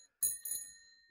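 The bell on a MK3 Raleigh Chopper bicycle rings twice in quick succession, bright and close, with a metallic shimmer fading after each ding.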